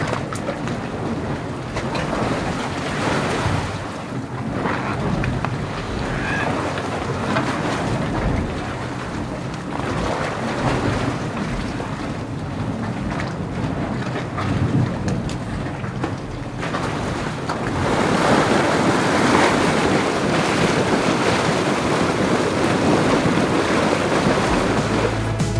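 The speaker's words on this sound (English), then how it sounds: "So we're at Dragon Mouth Spring, and this does sound like there's a dragon in the lair." Dragon's Mouth Spring, a hot spring in Yellowstone in winter, churning with a continuous loud roaring, splashing rumble and surges of water, fairly close, with no talk over it.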